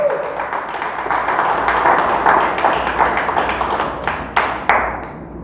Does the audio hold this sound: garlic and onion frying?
no